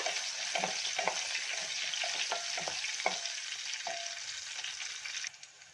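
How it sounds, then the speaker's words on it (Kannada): Greens palya frying in a pan with a steady broadband sizzle, punctuated by repeated scraping stirs of a spatula roughly every half second, continuous and close, easing off at the very end. "ಈಗ ಚೆನ್ನಾಗಿ ಫ್ರೈ ಮಾಡ್ಕೊಳ್ಳೋಣ"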